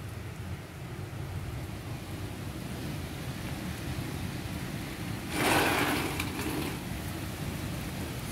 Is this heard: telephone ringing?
no